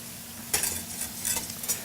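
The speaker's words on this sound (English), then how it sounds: "I'm going to pull it off the heat. I'm going to take my whisk." A whisk stirs reduced cream for a butter sauce in a pan just pulled off the heat, a few quick scraping strokes against the metal coming in short bursts over a faint background hum.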